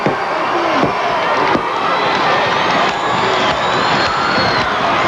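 A large crowd roaring and cheering in the Omni arena during a 1991 WCW wrestling match, with sustained loud crowd noise, whistles and scattered shouts filling the whole stretch.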